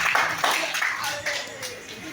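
Crowd applause with steady, dense clapping from an audience at a children's gathering in a community hall, continuous and fairly close with no clear voices.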